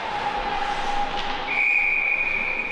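Referee's whistle at a junior women's ice hockey playoff game: one sustained, shrill blast partway through, standing clearly above steady rink ambience and crowd murmur.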